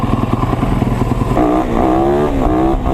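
A competition motorcycle engine struggles and sputters close by, chugging roughly, then rising into uneven revs with clattering mechanical noise throughout.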